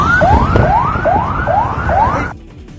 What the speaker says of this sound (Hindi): होटल के सामने एम्बुलेंस की लाइन लग गई, जिसके बाद पूरे इलाके में सायरन की आवाज गूंजने लगी